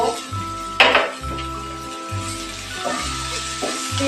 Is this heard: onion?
yes